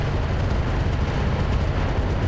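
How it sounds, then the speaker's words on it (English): A mortar barrage from 40 tubes in the BTA Universe video game: continuous deep rumbling explosions blending into one loud, unbroken thundering roll with no pauses. "So it's 40 mortar tubes worth of fast cam right on their corner."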